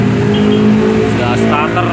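A Dongfeng diesel engine, a small 24 to 35 horsepower unit with an original double electric starter, runs loud and steady up close with a rough rumble, while people talk over it.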